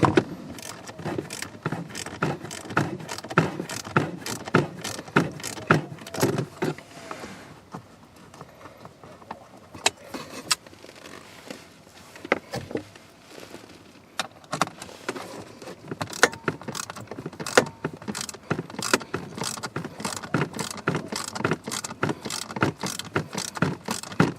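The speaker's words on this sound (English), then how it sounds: "I can just hold it and just unscrew this real quick" Ratchet with an extension clicking steadily as it unscrews a bolt on a Ford F-150 blower motor resistor, a rapid run of close, crisp ratcheting clicks with a brief pause partway through.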